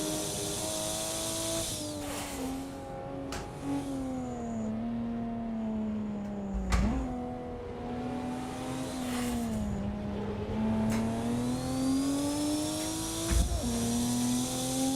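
A Nissan Skyline R31 touring car in a racing video game at Mount Panorama, engine droning steadily, its pitch rising and falling with gear shifts, accompanied by the hum of nearby cars throughout.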